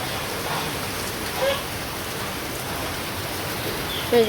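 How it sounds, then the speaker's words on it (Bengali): Steady, soft rain falling, a continuous even patter with no voices, fairly faint and constant throughout. "এই যে বৃষ্টি আসে আবার জায়গা আবার বৃষ্টি আসে"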